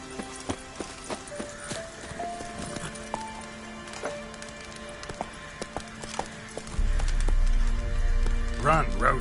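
Roach, the horse from The Witcher, clip-clops at a steady galloping rhythm. The hoof beats get louder and heavier toward the end, with a rumbling low undertone and a brief whinny.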